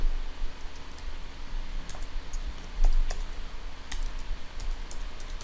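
Keys clatter on a computer keyboard while a Linux terminal command is entered, a sparse run of crisp clicks and taps with uneven gaps over a low steady hum, close and fairly quiet, with no talking.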